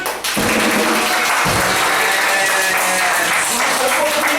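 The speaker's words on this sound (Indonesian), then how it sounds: "Coba Cool Kids, tepuk tangan yang kencang." A church youth gathering breaks into loud applause, a dense, continuous roar of many clapping hands that swells after a brief pause at the start and stays strong and close throughout, with faint shouting mixed in.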